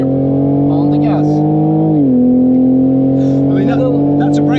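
A car lapping the Nürburgring racing circuit, its engine a loud, steady drone that dips in pitch midway and settles lower, with a voice talking over it throughout.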